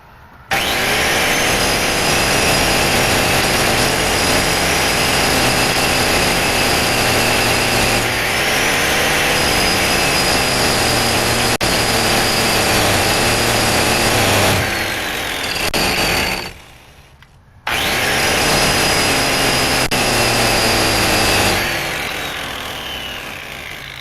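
An angle grinder cuts off the tone ring on a Dana 30 axle shaft, a loud sustained whine and grind that runs nearly nonstop, dips briefly to near silence, then resumes before tapering.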